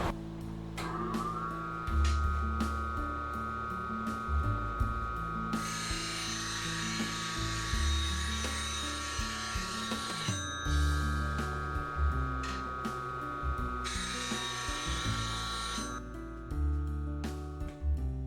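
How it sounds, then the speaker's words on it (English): A bench grinder wheel grinds a flat at 45 degrees onto the nose of a bowl gouge. It gives a steady high whine with a low motor hum under it, and grinding bursts come and go in long stretches with no talking. "So I'm just going to grind a flat right on the nose."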